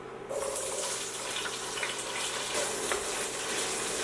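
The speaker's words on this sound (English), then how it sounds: "We're going to fry our potatoes here until they're half cooked." Potatoes frying in virgin oil in a pan, a dense, continuous sizzle that starts abruptly and holds steady at moderate loudness with no voices.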